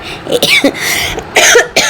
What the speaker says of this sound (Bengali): আমি দুঃখিত, কাশিটা তো আর নিজে থেকে হয় নাই